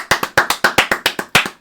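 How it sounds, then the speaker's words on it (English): Hands clapping in a steady, even rhythm, about nine sharp claps in under two seconds, close and loud with nothing else in the background. "Let's clap it up for our Players of the Week."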